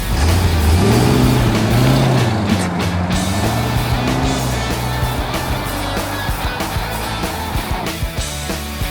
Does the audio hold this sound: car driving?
yes